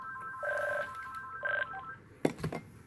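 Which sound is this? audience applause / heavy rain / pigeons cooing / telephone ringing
telephone ringing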